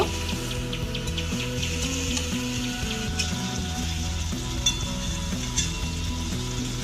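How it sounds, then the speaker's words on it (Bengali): Masala spices with chopped tomato and a little water being stir-fried in a pan for patol paneer, giving a steady close sizzle with soft scraping stirs throughout. "এইভাবে কিছুক্ষণ নেড়ে মশলাটাকে কষে নেব।"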